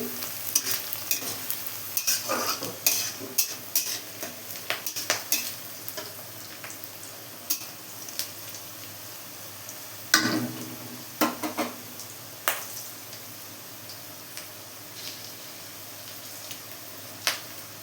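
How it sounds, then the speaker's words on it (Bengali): Fried-rice ingredients sizzle in a pan until reddened, with a steady hiss broken by repeated sharp scraping and clicking strokes as they are stirred. No one speaks. "এখানে লাল করে ভাজা হচ্ছে।"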